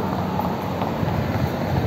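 Strong wind blows steadily and loudly as a broad, continuous rush with low rumbling buffeting, staying even throughout with no voices.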